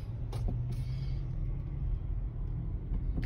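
A car reverses slowly, its engine giving a low, steady rumble that stays faint and close, with brief creaks and no talking.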